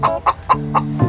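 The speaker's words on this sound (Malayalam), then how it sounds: "കോഴി" A chicken clucks close by in a series of five evenly spaced, loud clucks, the last one stretched into a longer throaty note.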